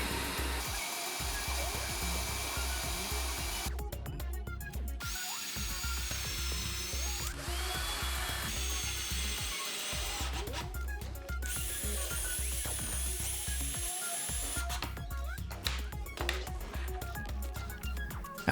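A bandsaw cuts wooden reinforcement pieces for a bandsaw fence, giving a loud, steady machine whine that runs the whole time, with the cutting tone shifting as each piece is fed through.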